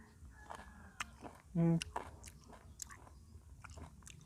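A single loud crunchy bite into the coarse peel of a marian plum (mayongchid), up close and short, set among quieter chewing and mouth noises.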